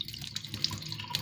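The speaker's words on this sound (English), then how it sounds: "So I'm going to drain out the soaked water." Soaking water being drained off soya beans into a sink, a steady close trickle and splash with small drips and gurgles throughout.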